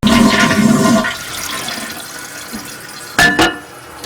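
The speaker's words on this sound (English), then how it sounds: "I'm going to flush the toilet just so the fresh water will change again" A toilet flushes with a loud rushing gush that fades into trickling refill, then a short burst of water sounds follows near the end, close and alone.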